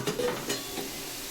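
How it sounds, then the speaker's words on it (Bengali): Potatoes fry in a pan, a soft steady sizzle and hiss with a couple of brief scraping stirs near the start, close and fairly quiet. "আর এদিকে আলু ভাজা বসিয়েছি"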